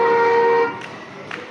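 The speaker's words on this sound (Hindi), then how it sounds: "ओके ना, हॉर्न देना। यहाँ से हॉर्न।" A short electronic horn on a children's toy car beeps once, a steady tonal honk lasting about half a second, followed by quiet handling noises.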